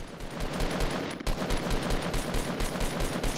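Gunfire in the Fortnite video game: a close, loud, rapid string of shots sounding steadily for a few seconds without pause.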